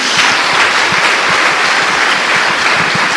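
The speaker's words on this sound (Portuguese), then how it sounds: "Dê uma salva de palmas a Jesus" Loud, sustained applause from a large church congregation, dense and steady clapping throughout with no pauses.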